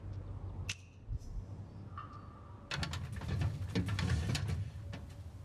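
Birds in the video game As Dusk Falls, with soft cooing and scattered chirps over a low ambient hum, followed by a burst of busier rustling and calls, no talking.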